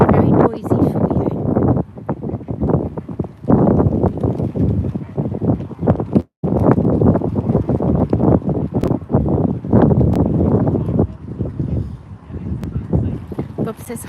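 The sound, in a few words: strong wind at Potter Heigham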